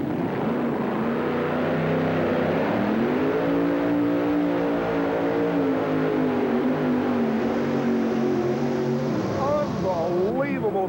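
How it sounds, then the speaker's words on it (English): A supercharged big-block Chevy engine in a monster truck revs hard at an indoor 1991 Worcester show, a loud, sustained roar that climbs in pitch and holds high for several seconds before easing off. "revving the engine as you can see"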